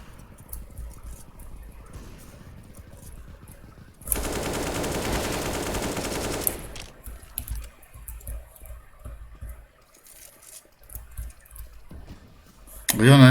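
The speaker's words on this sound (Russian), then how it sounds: "Там через смог стреляет." Gunfire in the video game CS:GO, fired through a smoke cloud: scattered distant shots lead into a loud, sustained automatic burst of a couple of seconds, then more intermittent firing, with players talking over voice chat.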